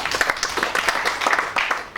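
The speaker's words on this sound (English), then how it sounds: "I think you should clap for that." An audience at an African Traditional Medicine Day event in Uganda applauds, a dense burst of many hands clapping close by, tapering slightly toward the end.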